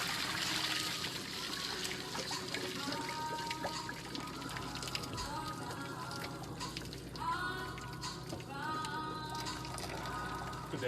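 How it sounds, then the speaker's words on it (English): Hot water pours off cooked broccolini from a pan into a sink, a steady trickling splash that runs throughout with a brief heavier gush, close and moderately loud. "I'm gonna go ahead and pour that water off the broccolini."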